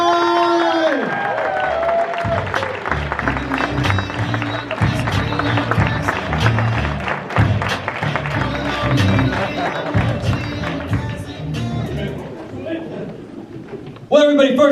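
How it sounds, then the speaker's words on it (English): Crowd applause and cheering at an industry gathering, sustained clapping mixed with shouts and loud music throughout, voices rising over it, the noise dipping briefly near the end. "I need y'all to give a big round of applause for Mayor Jacob Frey!"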